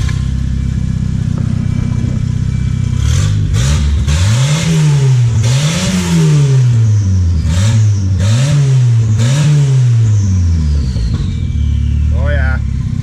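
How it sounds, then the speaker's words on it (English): Volvo with an open downpipe exhaust revving hard several times in a row, the engine note rising and falling in loud, close bursts over a steady rumble, with brief talk in between. "So it's just your typical, you know, open downpipe Volvo sound."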